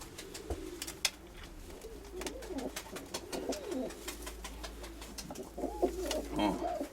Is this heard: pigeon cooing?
yes